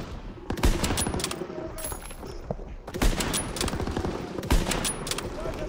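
Rapid automatic gunfire from a WWII video game, dense bursts of loud shots fired near and repeated in several volleys, with a few sharper cracks standing out.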